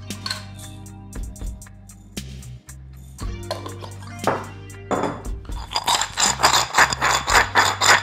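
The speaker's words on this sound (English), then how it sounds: "I believe it needs black peppercorns. So I'm just gonna grind a little bit." Black peppercorns ground in a pepper mill over a mushroom loaf mixture, giving bursts of rattling, ratcheting crunches that come close and grow denser toward the end.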